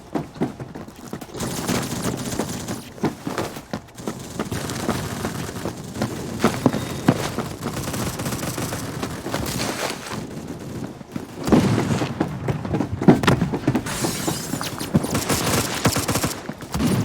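Rapid, continuous gunfire from a video game played with a double-barrel shotgun loadout, loud dense bursts of shots running the whole stretch with no pauses or talk.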